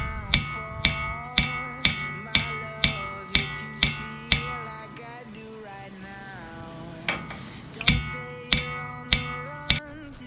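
Repeated ringing metal hammer blows drive out a wheel stud in a steady rhythm, pause briefly, then resume, each hit sharp with a metallic ring.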